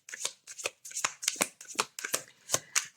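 Tarot cards are shuffled in a brisk, rhythmic series of about a dozen crisp riffles, close and clear, with no talking.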